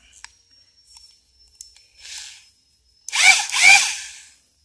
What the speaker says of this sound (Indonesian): Kita pasang di bor tangan, handbor.